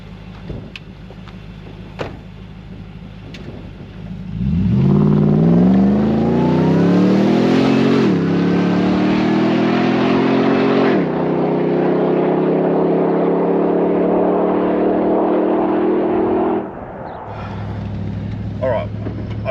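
A car accelerates hard from 0 to 100 km/h, its exhaust note rising steadily in pitch through several gear changes as a loud, close engine roar, then falling back to a low cruising drone.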